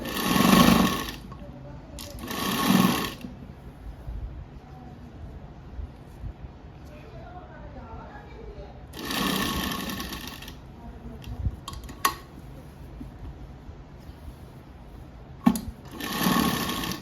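A sewing machine stitches the neck of a blouse in loud bursts of rapid mechanical whirring, separated by quieter stretches where someone speaks.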